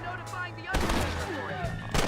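Gunfire in the Red Dead Redemption Undead Nightmare video game, with a loud burst of shots breaking in midway and another near the end, over continuous game noise and background talk.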